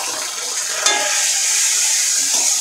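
Spices for Bengali rui fish curry stirred in a frying pan, a steady loud sizzle of oil with a light scrape of the spatula, close and continuous, no talking.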